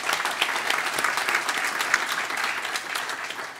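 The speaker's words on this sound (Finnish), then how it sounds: "annetaanpa tässä kohtaa yhteistyökumppaneillekin isot aplodit" An audience at a business event gives its partners a round of applause, steady crowded clapping throughout, close and even, tapering slightly at the end.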